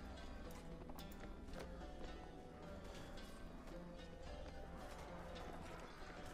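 Horse hooves clip-clop steadily through the battle din of Mount & Blade: Warband, a Nova Aetas mod, as a mounted commander rides uphill with infantry; the rhythmic hoofbeats sit inside a dense, continuous wash of game noise.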